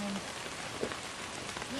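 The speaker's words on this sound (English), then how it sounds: "We're sitting in the rain, Victor" Rain patters steadily on a campsite during a campfire, a soft continuous hiss close by with a brief faint voice-like tone at the start.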